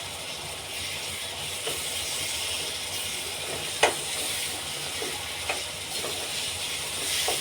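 Green vegetable masala paste sautéing in a pan for a home-style chana masala, a steady close hiss and sizzle running throughout with a few brief louder crackles and no talking.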